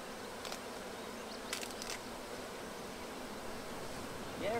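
Bees buzzing around a beekeeper tending a hive, a soft continuous hum of many insects with a few closer buzzing passes, fairly faint and without talk.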